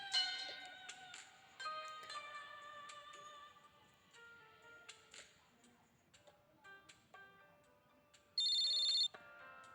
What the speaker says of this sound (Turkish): Ay, telefonum çalıyor.